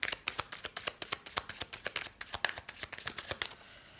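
Lenormand cards being shuffled by hand for a tarot-style reading, a steady run of crisp riffling snaps at an even rhythm, close and alone without any voice.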